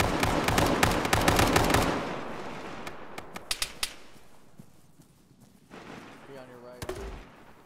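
Gunfire in the ShackTac Arma military game: a dense burst of rapid automatic shots at first, then sparser single cracks and distant reports, with voices talking over it.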